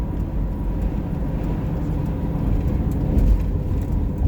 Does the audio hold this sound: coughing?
no